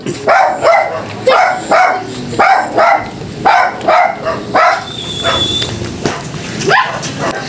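A dog barks repeatedly in a steady run of sharp, loud barks close by, then the barking breaks into a few softer yelps.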